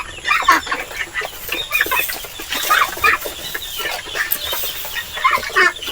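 Native chickens on a small farm cluck continuously and close by, in overlapping bursts from several birds, with no talking.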